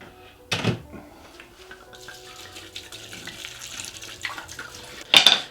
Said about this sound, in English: You're going to pour your red wine into your Instapot.